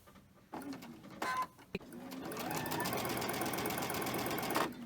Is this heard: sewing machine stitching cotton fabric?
yes